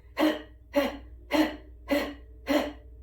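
Five sharp, forceful breaths pushed out through the nose, evenly spaced about half a second apart, close and clear against near silence.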